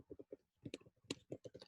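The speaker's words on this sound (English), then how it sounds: "Why am I typing that?" Quick, faint clicks from typing on a computer keyboard during a programming lecture, arriving in short irregular bursts of keystrokes with brief pauses between them.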